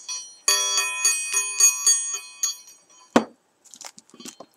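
Small bells jingle in a quick rhythmic shaking, bright and close, followed by a thump and a few faint rustling taps, from dangling balls on clothing.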